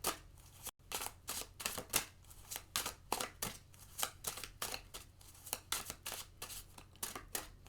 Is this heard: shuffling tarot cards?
yes